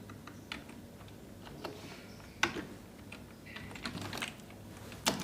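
Keys clatter on a computer keyboard as names are typed into a Microsoft Word student result sheet, with uneven bursts of close, crisp clicks and short pauses between words.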